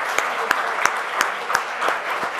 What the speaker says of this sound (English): So first, big round of applause for all of you.